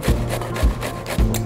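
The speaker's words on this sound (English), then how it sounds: "Peel our carrots first." Carrots being scraped with a peeler in a kitchen, three rhythmic rasping strokes close up with no talking.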